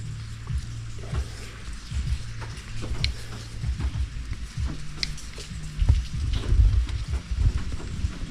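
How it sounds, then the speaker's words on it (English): Rain falls steadily outdoors during brake work on a 2022 Ford Maverick, with low rumbles of thunder swelling near the end and faint mechanical clicks of tools mixed in. "We got thunder and rain."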